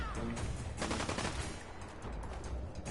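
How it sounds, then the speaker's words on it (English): Gunfire in the video game Fallout 4 crackles in dense bursts, a busy rattle of shots that continues without a break. "I feel like I can hear gunfire from somewhere else."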